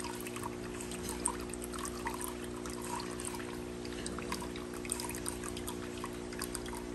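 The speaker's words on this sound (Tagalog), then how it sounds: "tapos lagay ka uli ng isang tabon tubig, o kaya dalawang tabo" Water poured by the scoop into a 5-gallon guppy aquarium during cleaning, a steady splashing trickle with faint droplets, continuous for several seconds over a low steady hum, no talk.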